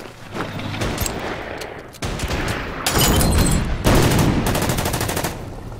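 Gunfire shot from a fortress in the Winter War strategy game Order of Battle on the Karelian Isthmus, loud bursts of rapid rattling shots and volleys that grow denser and heavier toward the end, with no talking.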